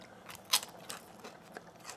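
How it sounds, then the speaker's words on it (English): Crunchy crisped chicken skin is bitten and chewed up close, one sharp loud crackle followed by several fainter, scattered crunches. "We have the skin of the chicken. As you can see here, those are really crunchy."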